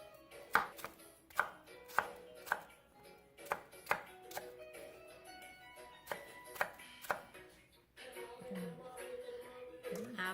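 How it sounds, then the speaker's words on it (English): Knife chopping mangoes into small pieces on a board, sharp regular chops about every half second, with a steadier shuffling, scraping stretch near the end. "Now you're gonna slice your mangoes into little pieces."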